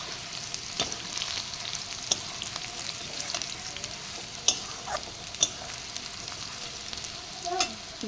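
Fried taro and potato pieces are stirred with browned onions in a frying pan, giving a steady low sizzle broken by occasional scrapes and knocks of the spoon.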